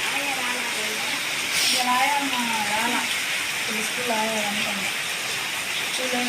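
Rain falls in a constant broadband hiss while people talk over it in the foreground.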